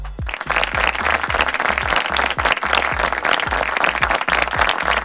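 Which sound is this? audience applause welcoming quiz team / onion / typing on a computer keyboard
audience applause welcoming quiz team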